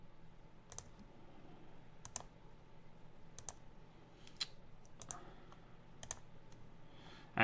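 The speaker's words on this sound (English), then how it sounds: "And now the clicking of buttons begins." Buttons clicked during a video game, giving sharp, sparse clicks spaced irregularly a second or so apart over a quiet background hum.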